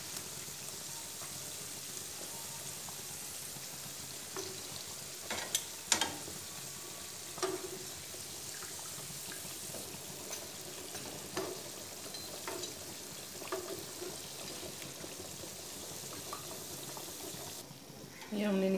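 Pakoras frying in oil for kadhi pakora give off a quiet, steady sizzle, with occasional clinks and scraping as pieces are lifted out and more are added. Someone talks over the sizzle.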